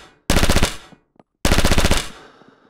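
A submachine gun in the video game Rising Storm Vietnam fires two loud, rapid bursts of automatic fire, each roughly half a second long, separated by a brief pause with faint mechanical clicks.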